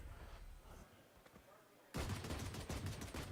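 Pistol gunfire during a pistol round of a Valorant match, starting after a quieter stretch as a dense run of rapid shots and impacts that continues to the end, with commentary voices nearby.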